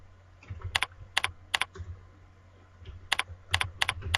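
Typing on a computer keyboard while filling out a sign-up form: clusters of crisp, close key clicks in quick bursts separated by short pauses, with no talking.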